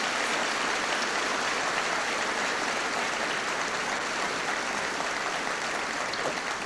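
Steady, dense applause from a large crowd at a high school commencement, many hands clapping continuously at an even level throughout.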